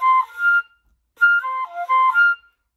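Flute playing a fast run from an Avengers part: two short bursts of quick, bright notes separated by a brief silence, close and clear with no talking.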